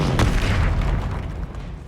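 A Bombarda blasting spell in Hogwarts Legacy lands as a single heavy, close boom with a sharp crack up front, then a rumbling tail that fades over two seconds.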